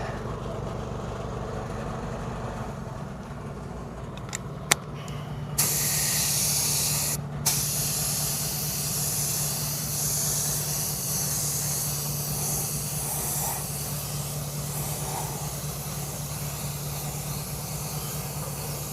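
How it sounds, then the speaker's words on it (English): An aerosol can sprays clear coat onto a repaired Audi A3 machined alloy wheel, a close, continuous hiss lasting many seconds with a few brief clicks and pauses near the start. "All right, then we seal that up with the clear coat."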